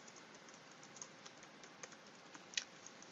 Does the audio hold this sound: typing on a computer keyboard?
yes